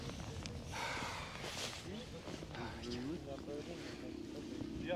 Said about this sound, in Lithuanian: Nu čia viršui vėjas pučia.